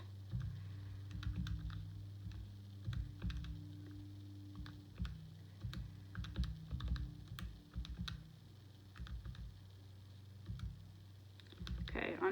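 Rapid, uneven keystrokes on a computer keyboard as numeric values are entered quickly into a table of data, with short pauses between bursts of typing, close and fairly quiet.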